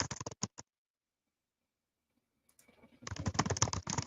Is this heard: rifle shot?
no